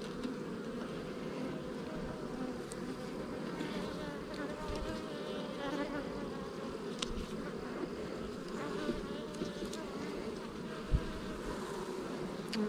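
Honey bees hum in a steady, dense buzz from an open hive during an inspection, close and continuous with no talk.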